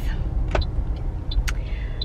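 Busy road traffic with cars passing nearby, a steady low rumble of engines under a few faint high chirps and brief swooshes.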